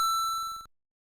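A quiz buzzer ring-in from an NES quiz game: a single bright, electronic tone pulsing rapidly for about two-thirds of a second, then cutting off abruptly into silence.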